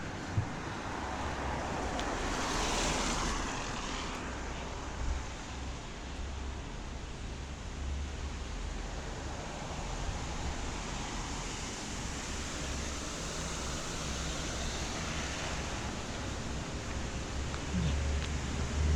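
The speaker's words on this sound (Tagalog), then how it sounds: "Kasi umuulan." Steady rain falls outdoors in the old Taipa village, a constant even hiss that holds for the whole stretch with no voices.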